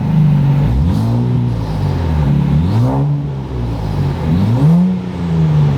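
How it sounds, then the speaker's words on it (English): A Nissan Z with an AWE Touring and Track Edition exhaust revs hard, the engine note rising and falling in repeated sweeping pulls with a low growl and turbo spool, loud and close with no speech. "It sounded like that's when the turbo starts spooling. Yeah. Nice little growl."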